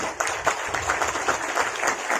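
Applause from an audience at a network marketing seminar, many hands clapping together in a steady, even patter, close and continuous throughout.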